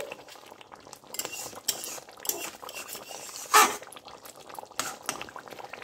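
Katla fish rezala being stirred in a pan on the stove, a spoon clinking and scraping against metal in irregular strokes with soft liquid movement, a sharp clatter midway; no one speaks.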